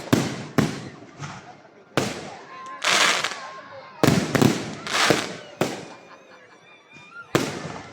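Christmas fireworks over Sto. Tomas, Batangas: sharp loud bursts in an irregular series, several close together, each trailing off into crackle, with a faint honking sound between blasts.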